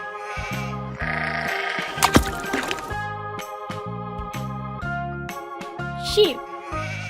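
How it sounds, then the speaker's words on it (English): A sheep bleats a few times over a bouncy, jingling children's music track, the calls standing out briefly amid the repeating tinkly melody. "Sheep."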